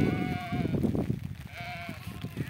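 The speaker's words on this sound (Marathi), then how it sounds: "बघा आपल्या अशा मेंढ्या इथं" Sheep bleat in drawn-out, wavering calls, with a flock grazing outdoors alongside cows as rain begins; two clear bleats stand out over a steady rustling background, and no one speaks.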